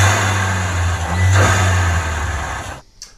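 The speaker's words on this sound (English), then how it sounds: "Let's do some blow-off sounds." A loud 2.0 TFSI EA113 car engine with a high-flow intake revs and holds high, then cuts off sharply near the end with a brief hiss like a blow-off valve venting.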